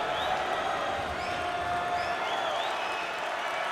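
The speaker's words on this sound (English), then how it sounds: "there's all kinds of people standing and cheering and going wacky" A college basketball crowd at a Stetson at Houston game stands and cheers in a continuous roar, with scattered whistles and whoops rising above it in the distance.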